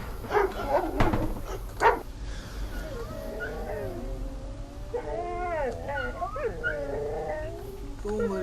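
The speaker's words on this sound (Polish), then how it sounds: "Pieski." Dogs bark in short loud bursts near the start of a paranormal horror video game, followed by a longer stretch of tonal game sound that carries wavering, cry-like calls.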